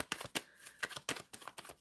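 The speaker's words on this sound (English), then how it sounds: "Shuffling for Witchy." Tarot cards being shuffled by hand, a close series of crisp papery riffling bursts in an uneven rhythm, with no voices.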